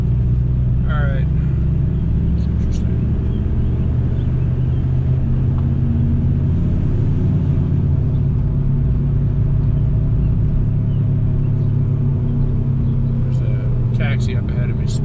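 A 2003 VW Beetle TDI diesel car on a test drive, with a steady low engine and road rumble running throughout and a few faint clicks and rattles over the top.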